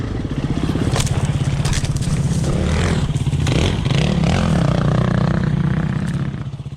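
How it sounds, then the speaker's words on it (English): A KTM 350 dirt bike on a rocky enduro trail: its engine throbs loud and close throughout, with rough crunching and clattering as it strikes a rock and scrapes over stones. "As you can see, the bike hit that rock on a strange angle"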